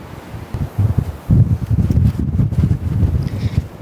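Strong wind buffets a van parked on a sandy beach, with low gusty rumbling and microphone buffeting rising and falling close by throughout.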